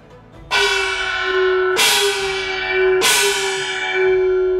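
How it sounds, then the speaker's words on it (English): Chinese gong struck at its center with a padded mallet, heard as three separate strikes about a second apart, each a bright crash that settles into a sustained tone with a gliding pitch and rings on without voices. "So you hold your stick and you basically swing to hit the center of this gong."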